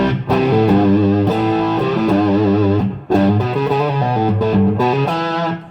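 Distorted electric guitar chords from a PRS SE guitar through the gain channel of a Marshall JCM800 2205 50-watt tube head ring out loud and sustained with a reverb wash, a brief break near the middle before the playing resumes.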